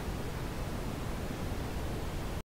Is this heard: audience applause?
no